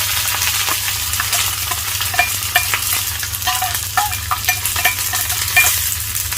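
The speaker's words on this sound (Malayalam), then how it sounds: "അതിലേക്ക് കൊച്ചുള്ളി, വറ്റൽമുളക്, കറിവേപ്പില എന്നിവ ഇട്ട് കൊടുക്കാം" Shallots, dried chili and curry leaves fry in hot oil with popping mustard seeds for a kovakkai coconut curry, giving a loud, close, continuous sizzle broken by frequent crackles and stirring scrapes.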